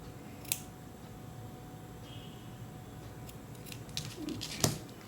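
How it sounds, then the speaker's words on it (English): Scissors snipping the yarn end of a crochet tassel, a couple of brief crisp snips close by, separated by quiet handling noise. "I'm going to cut the other end."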